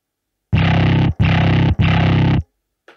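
Three sustained, gritty notes from an instrument run through a distorted Logic amp preset for a Mad Max Fury Road score, each loud and buzzing, separated by short gaps, with no talking.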